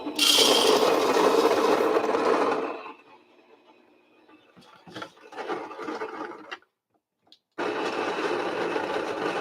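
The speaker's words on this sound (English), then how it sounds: "I'm going to put that in the grinder and start grinding that now." A Virtuoso coffee grinder grinds coffee beans coarsely with a loud, steady grating whir up close. It drops to a thinner rattle, surges again and stops briefly, then resumes at full strength.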